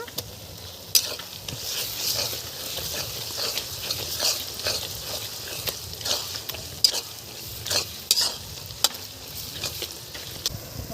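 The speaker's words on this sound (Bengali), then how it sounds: "ফোড়নটা দিয়ে দেব।" Whole tempering spices and onion sizzle in hot oil in a frying pan for a country-chicken curry, with a continuous hiss and repeated scraping stir strokes throughout, close and fairly loud.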